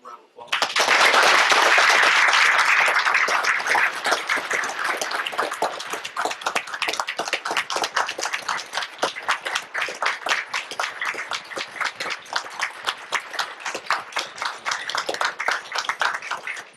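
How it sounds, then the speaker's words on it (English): A city commission meeting audience applauds a sergeant, the clapping swelling loudly at once into a thick roar, then thinning into crisp, uneven individual claps that keep going to the end. "Let's give him a round of applause"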